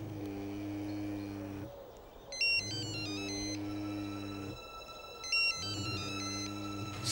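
A mobile phone plays a repeating melodic ringtone in a Russian melodrama scene, the tune cycling in two clear phrases over a steady hum, close and fairly loud with no talking.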